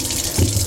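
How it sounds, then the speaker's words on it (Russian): Hot water gushing from a tap into a bucket, a steady close rush with a low filling rumble that swells briefly, with no voices. "набираю горячую воду"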